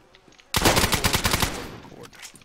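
A sudden, loud burst of rapid automatic gunfire in a video game, fired through a wall. About ten sharp shots come in quick succession and then trail off into a fading tail, with no speech over them.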